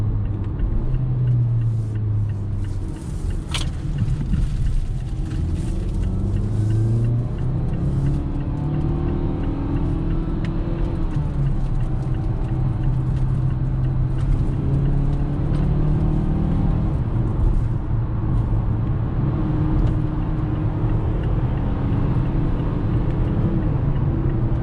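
A 2021 Mazda CX-5 driven in sport mode, its engine and road rumble steady and close from inside the cabin, with gentle rises in pitch as it accelerates and no talking.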